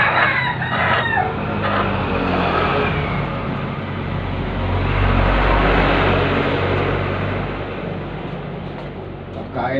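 Chickens cluck and a rooster crows amid a dense, noisy farmyard in Bulacan, Philippines, with a person talking at times and an engine rumbling in the background.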